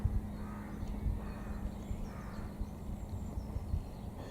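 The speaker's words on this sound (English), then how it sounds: "crows, because I've known them peck birds out of my bird boxes before today." Crows cawing in a garden in Bempton, East Yorkshire, a few harsh calls spaced out over steady background rumble, moderately distant and fairly faint, with no voices.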